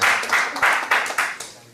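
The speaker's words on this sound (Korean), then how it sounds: "맹수이 잘 왔다 박수" A congregation at a church revival service claps in a quick, rhythmic burst, about five or six even beats close together.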